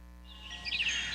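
Outdoor birds chirp in a bright, brief flurry of tweets over a low steady background hum, growing livelier toward the end.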